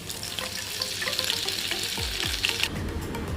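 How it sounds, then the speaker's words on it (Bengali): Food is dropped into smoking-hot oil in a wok, setting off a steady, close crackling sizzle with a few dull knocks and scrapes near the end. "এটা তেল গরম হয়ে গেছে ধোঁয়া উঠছে দেখি একটা ছেড়ে"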